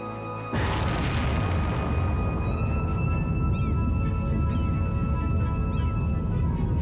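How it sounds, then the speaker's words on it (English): A missile detonation in the city-building game Cities: Skylines, a sudden deep boom followed by a sustained loud rumbling roar with faint tonal game sounds layered over it. "Letting off another missile."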